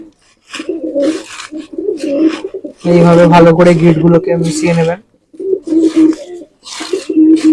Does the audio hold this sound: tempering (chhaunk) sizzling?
no